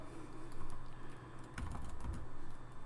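Computer keyboard typing: a quick run of key clicks, fairly close and moderately loud, with a dense burst around the middle and no voices.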